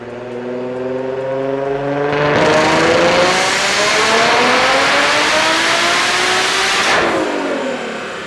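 A twin-turbo Nissan 370z running on its highest boost map, at over 700 wheel horsepower, revs hard at full power. The loud engine note climbs steadily for several seconds before cutting off sharply and dropping back toward idle.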